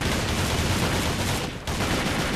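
Continuous rapid gunshots in the shooter game Uberstrike ring out loud and close, with a brief lull near the end before the firing resumes.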